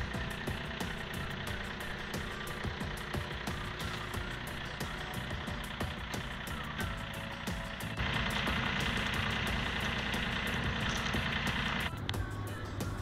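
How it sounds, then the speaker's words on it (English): A tractor engine starts and idles steadily with a low, rough mechanical rumble that grows slightly louder partway through and then settles again. "So we'll go ahead and fire up the tractor."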